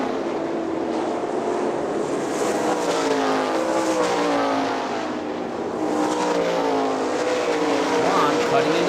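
410 sprint cars racing around Hartford Speedway, a dirt oval in Michigan, with a steady, loud roar of several engines blending into a continuous drone throughout, without any break or pause.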